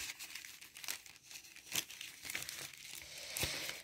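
Banknotes slide back into a paper envelope with close, soft crinkling and rustling paper sounds, punctuated by a few sharper crackles and no speech.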